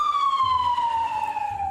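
A siren from a nearby fire or police station sounds loud and continuous, one sustained tone gliding slowly downward with a faint low rumble underneath.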